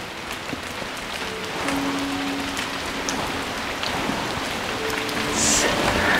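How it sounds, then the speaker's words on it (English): Rain falling outside, heard through an opened door as a steady soft patter of drops on surfaces, with faint tonal sounds drifting in the background. "the sound of the rain is so nice"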